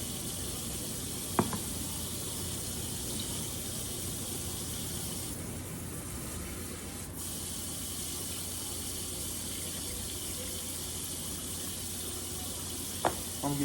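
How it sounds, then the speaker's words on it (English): Tap water runs steadily into a pot to rinse peas, a continuous hissing gush that lasts the whole time, with a couple of faint clinks near the start and end. There is no talking. "Fill it up with regular water"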